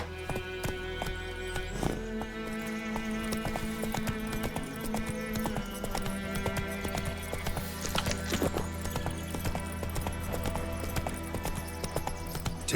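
Roach, the horse in The Witcher 3, trots with a run of clip-clopping hoofbeats and gives a neigh, set against a dense wash of game music and ambience at moderate loudness.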